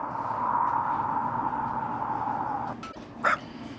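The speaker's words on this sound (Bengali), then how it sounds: "একটু পরে কুকুরটা ঘেউ ঘেউ করে ডেকে উঠল" A dog barking as a sound effect in an audio story, a sustained whining bark-like tone followed by a couple of short sharp yips near the end, close and without talk.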